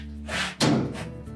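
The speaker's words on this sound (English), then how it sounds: "Tighten it securely, close the door up." A GE clothes dryer door swings shut with a single solid thunk, close and fairly loud, preceded by a soft brushing movement.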